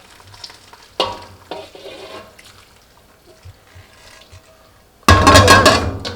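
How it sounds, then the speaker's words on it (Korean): A few kitchen clinks and quiet handling noises, then a loud burst of boiling water being poured over kale and splashing, hissing and bubbling close by. "물이 이렇게 펄펄 끓을 때 이렇게 부어주세요."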